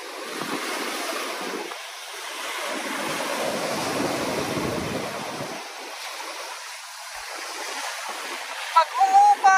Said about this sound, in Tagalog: Grabe yung alon, ha.